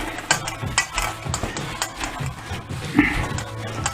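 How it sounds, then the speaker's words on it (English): Ground sausage meat gets mixed with spices by hand or utensil, giving repeated soft, squishy stirring and scraping sounds in an irregular rhythm, close and moderately loud. "mixing in the spices"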